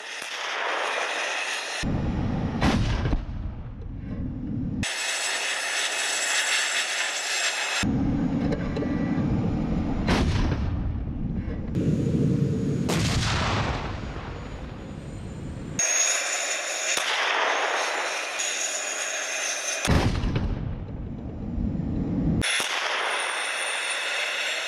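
Russian Army T-80BV main battle tank fitted with Kontakt reactive armour firing during operations in Ukraine, heavy booming cannon blasts repeated several times with rumbling echoes and loud bursts between gaps.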